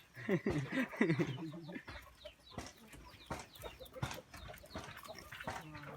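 Chickens cluck in a Lao mountain village, a close run of clucks through the first second and a half, then scattered clicks and rustling fill the rest.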